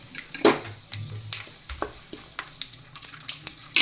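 Whole spices dropped into hot oil with turmeric for a Kathiawadi varaliyu recipe, giving a close sizzle with stirring scrapes and light clinks of a pan, no talking.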